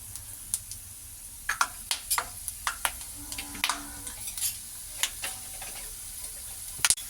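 Chana dal crackling in hot oil alongside peanuts for poha, a steady soft sizzle broken by sharp pops and ticks scattered throughout, with occasional light spoon or pan contact and no talking.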